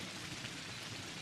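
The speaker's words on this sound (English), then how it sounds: "Sudden rain, violent thunder," Sudden storm with steady heavy rain pouring on surfaces, a dense continuous wash of noise throughout at a low, even level; no clear thunder clap stands out.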